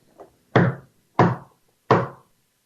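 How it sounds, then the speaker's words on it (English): Three loud, sharp wooden knocks ring out at a steady interval at night along a wooded stretch of the Trans-Canada Trail, preceded by a fainter tap, with no voices. "A wood knock."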